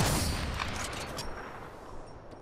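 A single loud sniper rifle shot in Apex Legends cracks at the start, then a long rumbling decay trails off. No voices are heard.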